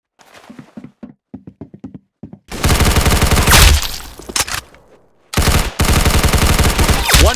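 Video game gunfire in a 1v1 match: a few scattered light taps and clicks, then two long loud rapid bursts of automatic fire, close and dominant.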